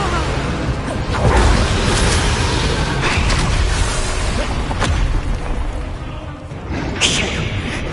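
An Incendio fire spell cast in Hogwarts Legacy produces whooshing bursts and booming flame sounds over continuous combat noise, loud and close, with a bright crackle near the end.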